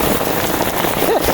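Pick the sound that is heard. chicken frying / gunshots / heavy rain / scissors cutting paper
heavy rain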